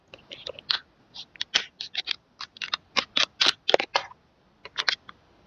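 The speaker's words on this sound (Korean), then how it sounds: "어쩔 수 없이 가위로 트겠습니다." Scissors snip at a mini jelly package in a close, quiet ASMR setting, giving a run of crisp, irregular clicks and cuts separated by short silences.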